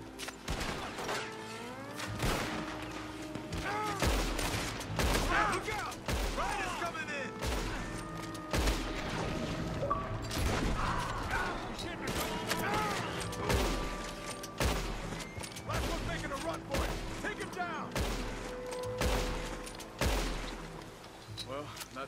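Rifle gunfire in the video game Red Dead Redemption 2: repeated sharp shots and booms scattered through a busy game soundscape with background music, while a voice talks intermittently.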